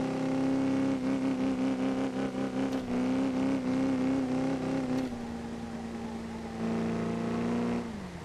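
Car engine in the drifting video game Driftzone drones in a steady, strained whine that shifts pitch as it revs and eases off, loud and continuous with no talking.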